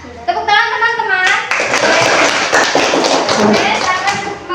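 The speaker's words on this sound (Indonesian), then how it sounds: "Tepuk tangan teman-teman." Elementary-school classmates break into a burst of lively hand clapping indoors, many hands patting together in a loud dense run alongside children's voices.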